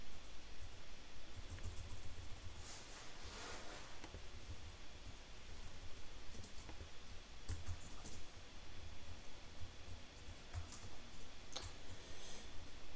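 Typing on a new computer keyboard, with scattered clicks and short bursts of keystrokes over a steady background hiss, close to the microphone and fairly quiet.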